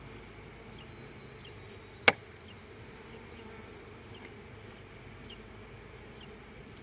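Honey bees hum in a steady, faint drone around an opened beekeeping hive box, with one sharp click partway through and no voices.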